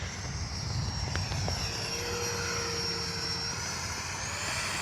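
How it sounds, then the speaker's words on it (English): An FMS 64mm F-16 Thunderbird RC jet flies overhead fairly close by, making a continuous high whine that rises and falls in pitch as it passes. The sound is steady and moderately loud, with no talking over it. "Try to keep the jet in fairly close because it is a hat cam video."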